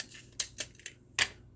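Adhesive tape is pulled and pressed to fasten cardstock chromosome cutouts to a surface. A few short crackly rips sound close in a quiet room with a low hum beneath and no voice.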